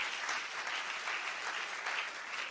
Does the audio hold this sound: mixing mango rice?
no